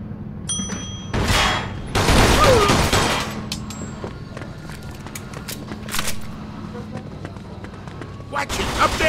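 Gunfire in the crime shooter Mafia 2: bursts of shots mixed with loud in-game shouting, heaviest early on and again at the very end, over a steady low background hum.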